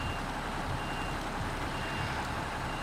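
Reversing beeps from a delivery truck in a driving video game, a steady repeating warning tone over constant loud engine rumble, with no talking.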